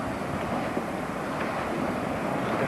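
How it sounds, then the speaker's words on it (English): Water bubbling and churning amid steam in a home setting, a steady loud hissing, gurgling wash with no pauses and no talking. "We got bubbling noises."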